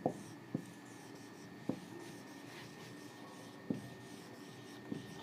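Handwriting during a classroom physics demonstration on the principle of moments, heard as faint, steady scratchy rubbing with a few soft taps as the writing tool lifts and lands, no talk over it.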